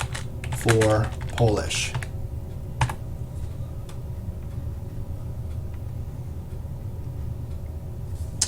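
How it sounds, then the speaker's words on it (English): A computer keyboard is typed on at a desk: a short burst of words is spoken first, then sparse, separate key clicks over a steady low room hum, close by and soft. "So I'll type in here, click here"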